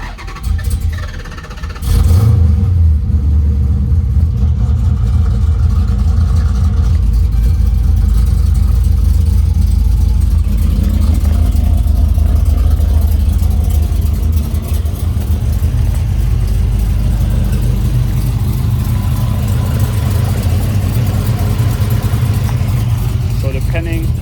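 A cammed 6.4 Hemi car engine fires up and settles into a loud, steady idle close by, running continuously for over twenty seconds with a slightly uneven, lumpy throb.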